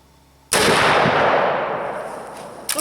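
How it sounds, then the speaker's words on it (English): A single loud, close rifle shot from a Marlin 45-70 Guide Gun fired outdoors at targets, with a sharp crack and a long decaying echo, followed by a faint metallic click near the end. "It's got some targets out here that we'll shoot at"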